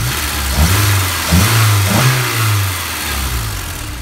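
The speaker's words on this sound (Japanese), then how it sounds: "ちょっと吹かしてみます。" A Honda S2000 (AP1) engine, fitted with TEIN coilovers and Prodrive wheels, is blipped from idle in a few quick revs that rise and fall, close and loud, with no talking.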